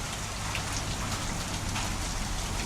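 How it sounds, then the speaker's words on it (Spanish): Heavy rain pours steadily during a thunderstorm in Alta Gracia, a dense continuous hiss of drops drumming on surfaces, close and loud throughout with no voices. "Impresionante, en unos minutos como se llovió todo."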